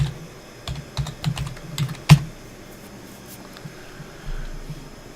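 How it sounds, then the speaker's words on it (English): Fingers typing a password on a computer keyboard, a quick irregular run of close key clicks with one sharper final keystroke, then near silence and faint background hum. "Going to put in my password."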